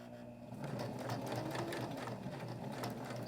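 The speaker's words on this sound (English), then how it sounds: "I'm going to stitch across, I'm going to turn it," A sewing machine stitches across a fabric lanyard, a steady rapid mechanical whirr with rhythmic needle clatter that starts after a short pause, close and clear.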